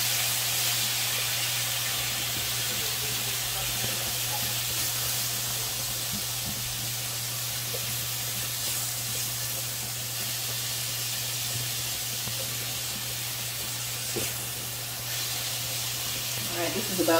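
Ground beef hamburger sizzling steadily in a pan while enchiladas are made, a continuous broadband hiss with a low hum underneath and a few faint clinks.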